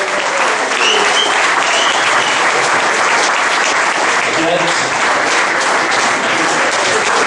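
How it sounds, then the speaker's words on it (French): A crowd claps enthusiastically, a thick continuous burst of applause that holds at full loudness throughout. "j'aimerais ça qu'on leur donne une grosse main d'applaudissements"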